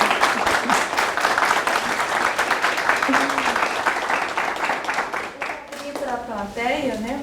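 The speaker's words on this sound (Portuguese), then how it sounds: "Primeiro vamos fazer uma salva de palmas." An audience at a lecture on Lesson Study breaks into steady, dense applause that carries on for several seconds and then tapers, while a voice talks over the end.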